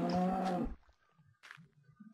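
A cow in Minecraft lets out one loud, close moo at the start, followed by quiet footsteps and faint game sounds.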